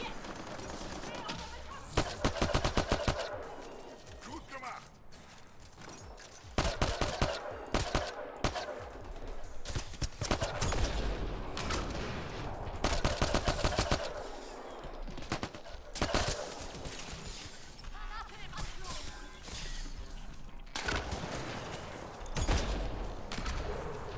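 Gunfire in the Mass Effect Andromeda shooter, with repeated bursts of rapid automatic shots and single loud cracks coming in clusters over about twenty seconds, mixed with game effects and someone talking.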